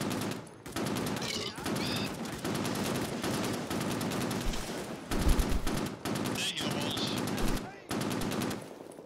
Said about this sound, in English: kill him with the fucking Dushka